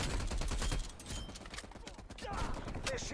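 Rapid bursts of gunfire crack in quick succession in Call of Duty: Black Ops Cold War, followed by scattered shots and game sounds, with a voice talking faintly underneath.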